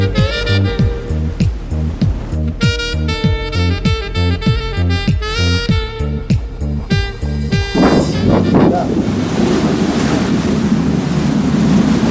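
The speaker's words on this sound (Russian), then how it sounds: "как эта могучая махина стремительно рассекает волны" A passenger ferry crossing between continents in Istanbul cuts through sea waves. Rhythmic music plays first, then gives way to a loud, continuous wash of surf and wind buffeting close to the microphone.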